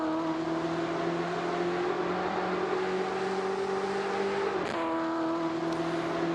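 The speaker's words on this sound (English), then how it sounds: "The twin turbo V8. It's very nice. That is music to any car enjoyer's ears." A twin turbo V8 race car in a sim racing game holds a steady, droning engine note at constant pitch, with a brief shift in tone partway through, running continuously without talk.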